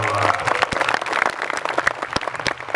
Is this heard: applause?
yes